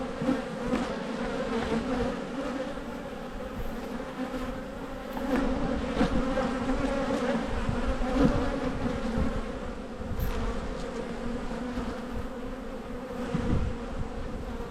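Honey bees swarm around an open hive during an inspection, a dense, continuous drone of many wings close by, with individual bees flying past and swelling the buzz now and then; no one speaks.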